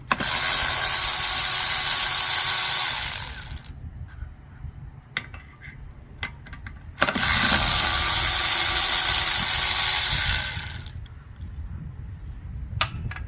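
Ratcheting wrench backing out two 10 mm bolts on a Honda GCV190 small engine during teardown, heard as two long, loud bursts of rapid clicking with quieter tool handling and clinks between them.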